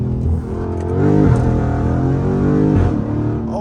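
A Dodge Charger SRT Scat Pack accelerating hard under paddle shifts, its engine roaring loudly and continuously with a rising whine, heard from inside the car with no talk.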